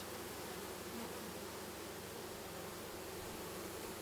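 Honey bees humming inside an open Dadant hive during a summer colony inspection, a dense, faint, continuous buzz with no distinct individual sounds and no voices.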